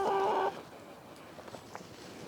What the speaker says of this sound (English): all these chicks, they want to eat something